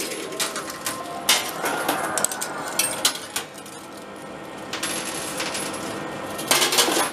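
Metal coins clatter and jingle continuously in an arcade coin pusher machine, with repeated bursts of coins dropping and sliding over a steady mechanical background hum, heard up close.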